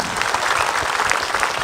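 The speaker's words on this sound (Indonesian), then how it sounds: "Tepuk tangan untuk Ustaz Syam." An audience at an Islamic religious talk show applauds a guest preacher, dense steady clapping from a crowd filling the whole moment, loud and even.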